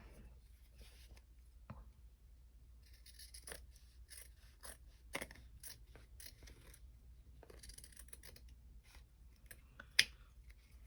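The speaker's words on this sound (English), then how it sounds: "I'm just going to cut around it then." Scissors cut around a shape, giving faint, scattered snips and papery rustles at low volume, with one sharper snip near the end.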